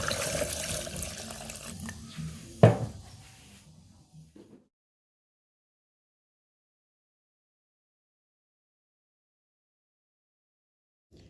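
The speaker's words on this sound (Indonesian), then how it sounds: "Kita beri air ya bun." Water pours and splashes into a cooking pot for rawon soup for a few seconds with a brief clunk, then stops, leaving near silence.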